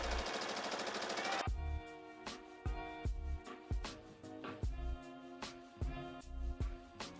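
A sewing machine stitches bias tape along a fold on a puff sleeve, running in short repeated bursts with brief pauses between, steady mechanical whirring punctuated by rhythmic thumps, close and moderately loud, no talking.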